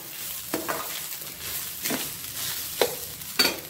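Grated coconut roasting in oil in a pan for coconut rice, with a soft steady sizzle and several sharp scraping stir strokes of a spoon or spatula at irregular intervals.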